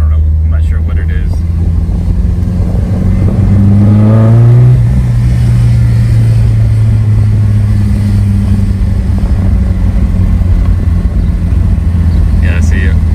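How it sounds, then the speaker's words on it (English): A car engine with a noisy exhaust header drones loudly from inside the car, rising in a brief rev around the middle before settling back into a constant low rumble. "I don't know if it's the header just being so noisy"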